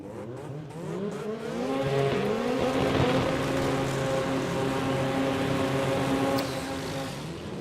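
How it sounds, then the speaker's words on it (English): A Mazda RX-7 drag car with a 13B turbo rotary engine, at an Australian sports compact drag meet, revs hard and pulls away in a loud, buzzing stepped roar that holds steady before easing off, with no talk over it. "The sounds of a 13B turbo"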